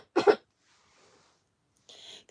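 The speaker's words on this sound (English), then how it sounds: "Guys, I need to cough." A single short cough bursts out loud and close near the start, followed by quiet breathy sounds and a faint rustle toward the end.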